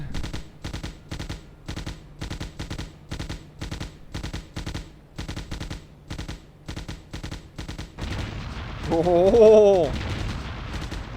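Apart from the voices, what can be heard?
machine gun fire in video game Hidden and Dangerous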